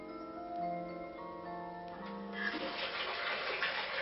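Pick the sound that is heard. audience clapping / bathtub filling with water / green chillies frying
bathtub filling with water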